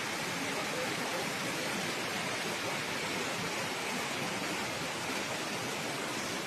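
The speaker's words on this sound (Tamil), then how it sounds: "இது அப்படியே ஓடை." A forest stream near the Kombu Thookki Amman temple in Nagalur, Anthiyur, rushes with a steady, dense, close hiss of flowing water that holds unbroken throughout, with no voices.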